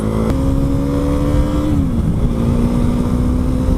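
An adventure motorcycle being set up for trail riding accelerates hard up close, its engine note rising in pitch then shifting briefly before climbing again, loud and continuous with no talk.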